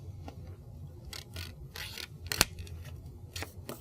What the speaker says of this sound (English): Go ahead and fold the paper along that dotted line.